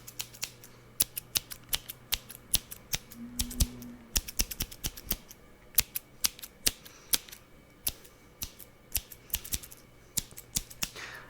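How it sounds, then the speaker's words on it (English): Small scissors snip hair repeatedly in quick, irregular bursts of sharp metallic clicks, close and crisp against a quiet background. "Now let me switch to my smaller pair of scissors here for the more complicated areas."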